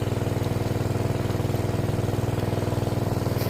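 Engine-driven water pump draining a fish pond, a steady mid-pitched motor chugging in an even rapid pulse, fairly close and constant with no talk over it.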